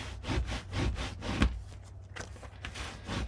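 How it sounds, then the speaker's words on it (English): Repeated rubbing strokes of a burnishing tool over paper pages of a small farm-themed mini album, a steady close scraping rhythm of about six passes with no talking. "I'll go ahead and burnish"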